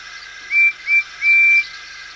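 Three shrill whistle blasts from a train conductor's whistle, two short and one longer, piercing and fairly loud over a faint steady background hiss.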